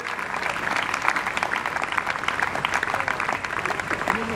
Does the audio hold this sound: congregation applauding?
yes